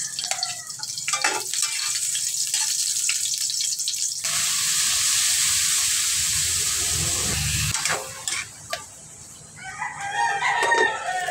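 Food sizzles steadily in a pan while roosters crow loudly nearby, with the frying hiss swelling in the middle and fading as more crowing and clucking take over.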